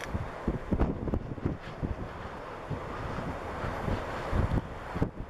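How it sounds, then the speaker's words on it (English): Strong gusts buffet the microphone during a Sunday drive through North Carolina, a steady broadband rumble with sharper low thumps pulsing irregularly throughout, loud and close with no talking. "Pretty windy today."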